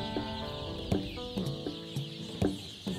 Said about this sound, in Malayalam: സംഗീതം കേൾപ്പിക്കുന്നത് കോഴികളിലെ അക്രമവാസന കുറയ്ക്കാൻ ഉപകരിക്കുമെന്ന് റെജി കണ്ടെത്തി